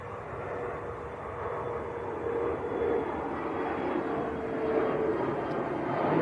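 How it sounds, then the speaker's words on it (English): A Logan Air Embraer airliner departing Manchester Airport, bound for Aberdeen, heard as a steady, broad jet engine roar that slowly grows louder, with no talk over it. "Logan Air Embraer."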